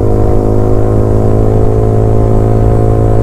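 A Yamaha R15 motorcycle fitted with a loud Arrow exhaust drones steadily while riding, a loud, close, buzzy engine tone that holds an even pitch throughout.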